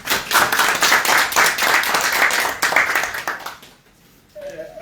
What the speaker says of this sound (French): que je vous demanderai d'applaudir très fort